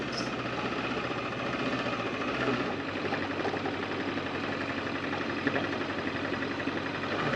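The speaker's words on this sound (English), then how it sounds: "Off-road on sport bikes." Sport motorcycle engine droning steadily while riding off-road on dirt in Grand Teton National Park, a close, continuous mid-pitched engine hum with rumbling vibration and rough-ground noise, no talk.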